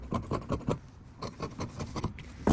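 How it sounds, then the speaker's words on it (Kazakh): Scissors cut through fabric pieces for a maternity and nursing garment, giving a string of close, soft rasping snips in quick bursts with brief pauses between them, and a louder snip at the end. "Қиып алатын боламыз қазір."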